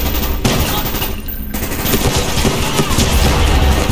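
Gunfire in Call of Duty Black Ops. Loud, rapid shots crackle and rattle continuously over a dense battle din, with no clear pause.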